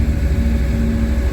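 A 2007 BMW 335xi engine idles while warming up, a loud steady low rumble with a constant hum and no revving or talking.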